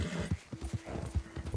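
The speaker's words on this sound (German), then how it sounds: "unser Pferd spinnt schon wieder" A brief run of horse hooves clopping at a quick, uneven trot in Red Dead Redemption 2, soft and close, with a faint hum behind.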